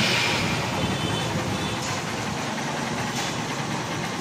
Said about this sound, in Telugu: ఇంజిన్ బీటింగ్ అయితే ఏనండి భయ్య